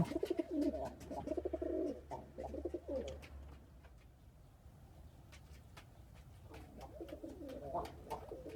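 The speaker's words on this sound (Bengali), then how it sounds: "প্রথমে কবুতরের ঘর খুলে দিচ্ছি কবুতর বের করার জন্য" Pigeons coo in soft, throaty bursts inside a loft as its coop is opened, close by at first, then fading before resuming, with faint rustling and clicks in between.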